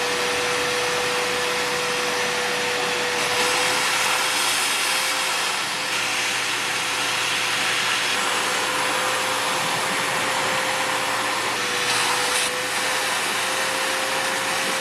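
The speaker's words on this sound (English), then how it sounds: "Then what we're gonna do is lean on the shop vac." A shop vacuum runs loudly and steadily with a constant high whine and rushing air, its pitch wavering slightly now and then, while vacuuming during a coolant change on a Chevy Bolt EV.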